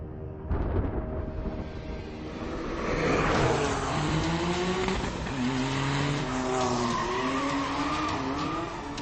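Early-1990s car without power steering, anti-lock brakes or driver aids squeals and skids its tires in long wavering whines over a rough engine roar, loud and close.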